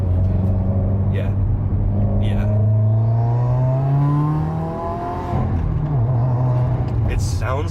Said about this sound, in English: There's like turbo lag, and then it just flattens out.